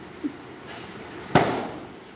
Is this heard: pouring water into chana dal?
no